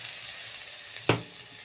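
Capsicum and beans fry in a pan, giving a soft steady sizzle with one short sharp clack of stirring partway through, close and without speech.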